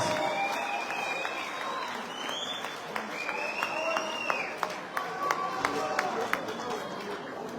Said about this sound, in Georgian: Clap your hands for both the sportsmen.